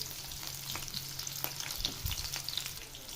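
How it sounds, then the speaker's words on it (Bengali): Chopped onions and green chillies frying in oil for a dried-fish curry, a steady close sizzle with scattered crackles and a few spoon scrapes, no talk. "প্রথমে আমরা পরিমাণ মতো তেল নিয়ে নিচ্ছি তারপর দিয়ে দিচ্ছি তিন চারটা পেঁয়াজ কুচি দু একটা মরিচ কুচি"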